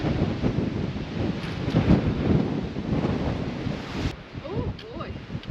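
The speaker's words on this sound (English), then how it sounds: "The wind is brutal." Strong gusting wind buffets the microphone on an exposed Mount Washington hiking trail, a heavy continuous roar swelling and easing, with a brief voice near the end.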